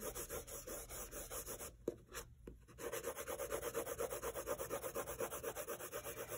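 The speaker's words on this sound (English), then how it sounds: "We're going to go ahead and use this woodless pencil right now, and I'm just going to cover the surface of this paper." A woodless graphite pencil scrubs back and forth across paper in quick, even rhythmic strokes, very close and quiet, with a brief pause partway before the steady shading resumes.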